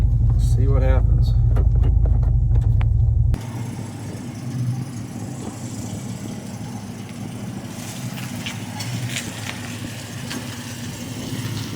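A bus driving on the road: loud low engine rumble with talking over it at first, then a steadier rattly cabin drone as it travels along.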